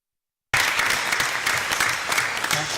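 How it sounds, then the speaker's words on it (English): Applause from a school board meeting audience starts abruptly and holds as a steady, dense wash of clapping hands, fairly close and unbroken to the end. "I know you already clapped"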